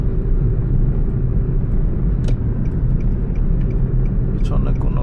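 A 2005 Nissan Tiida drives along a road, a steady low engine and road rumble heard from inside the cabin, with a faint click or two on top.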